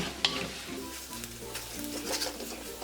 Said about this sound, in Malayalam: ഈ പൊടികളുടെ പച്ചമണം മാറുന്നത് വരെ ഒന്ന് ഇളക്കി കൊടുക്കണം.